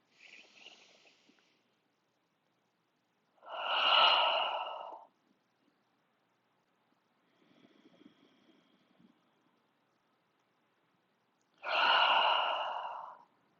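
Slow, deep breaths during a guided chest and shoulder stretching exercise: a faint nasal inhale, then two loud, long sighing exhales about eight seconds apart, with a soft breath between them. The breathing is close and alone, with no talking.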